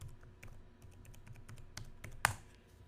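Keystrokes on a computer keyboard while a new password is typed, a quick irregular run of light clicks with one sharper, louder tap near the end.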